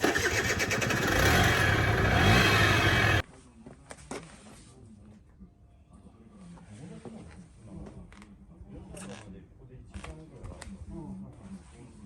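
A hard-starting Yamaha 200cc motorcycle engine revs loudly and steadily at close range, then cuts to a quieter stretch where people talk over faint clicks and mechanical knocks.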